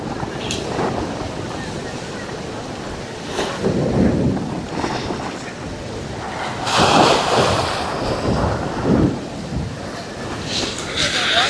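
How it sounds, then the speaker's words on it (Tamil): Rough sea waves crash and surge along the rocky Keerimalai coast in Jaffna, a continuous loud roar of surf with heavier breaking swells around the middle and later, carried on strong wind, with no talk over it. "அலை கொஞ்சம் வித்தியாசம் அடிச்சு கொண்டு இருக்குது பாருங்க"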